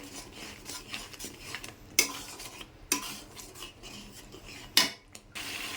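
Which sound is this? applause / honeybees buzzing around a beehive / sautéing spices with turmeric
sautéing spices with turmeric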